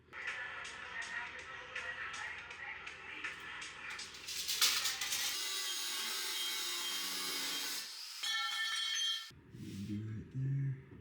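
A power saw cuts through the steel frame of a custom electric pickup truck, giving a steady loud grinding whine that changes pitch as the blade works, then breaks off near the end.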